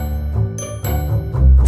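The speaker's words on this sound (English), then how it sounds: "The phone rang a few more times." A telephone rings repeatedly in a tonal, chiming pattern, loud and close, with several bursts of ringing and no talk.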